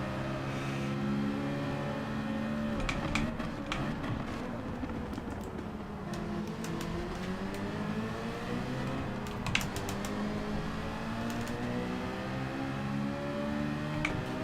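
A Group 4 race car at Trial Mountain Circuit in Gran Turismo 7 drones under steady load, its engine pitch rising and falling through gear changes, continuous and moderately loud with faint clicking over it.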